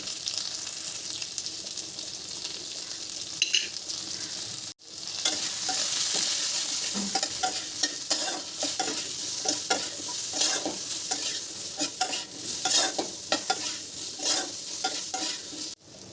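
Potatoes and eggplant fry in a pan with cumin, turmeric and salt, a steady close sizzle broken by a brief silence, then stirring and scraping over continued frying.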